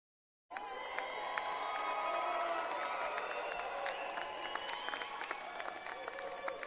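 Crowd of graduates at an Angelo State University spring commencement cheering and shouting for their families, a dense sustained roar of many voices that holds steady throughout after a brief silent start.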